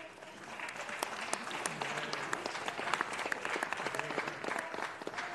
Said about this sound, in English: Happy she's applauding for something.